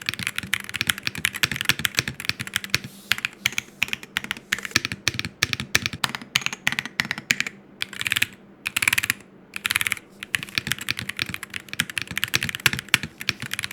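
An MCHOSE Ace 60 Pro mechanical keyboard being typed on quickly, giving a dense, continuous stream of crisp clacky keystrokes with a few brief pauses, close and loud with no voices.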